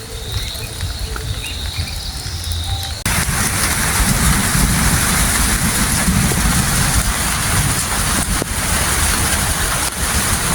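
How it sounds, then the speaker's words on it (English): Heavy rain from a thunderstorm over a wetland garden with sugar cane and banana plants, a steady dense hiss that starts softer with insect chirps and then swells into a loud, continuous downpour with low rumbling. "Beautiful sounds of the thunderstorm"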